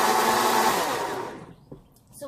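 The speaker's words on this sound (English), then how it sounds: "Just finish blending this all together here." Blender whirring loudly through a stevia and cinnamon pudding mix, a steady broadband roar that winds down over the second half and stops, with a few faint clicks and knocks afterward.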